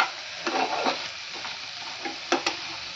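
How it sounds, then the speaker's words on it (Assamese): Ingredients with ginger are stirred and fried in a pan, with a steady close sizzle under scraping strokes of a spoon and a few sharper clatters near the end. "ভালদৰে লৰাই মিক্স কৰি দিব লাগিব।"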